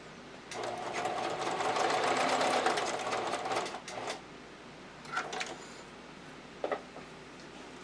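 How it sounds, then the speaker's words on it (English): A sewing machine sews a narrow stitch onto a bra, a close, rapid run of stitching for a few seconds followed by short bursts and brief stops, with small mechanical clicks in between. "Use a narrow stitch to just stitch it onto the tail as close to the garment"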